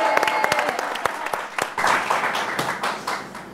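Audience applauding a DJ at a live Algerian TV variety show, steady clapping from a crowd throughout with scattered sharp individual claps.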